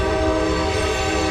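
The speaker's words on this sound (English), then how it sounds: "when he hits that whistle, man, it gets loud" A train horn blasts in Matewan, West Virginia, loud and very close, one sustained chord-like tone holding steady over a low rumble of the train.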